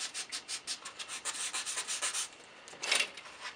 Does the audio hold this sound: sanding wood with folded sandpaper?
yes